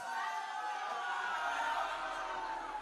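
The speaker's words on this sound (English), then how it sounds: "They're booing him to his seat." A large crowd booing a man as he walks back to his seat, a steady, dense roar of massed voices that holds at an even, loud level throughout, with no gaps.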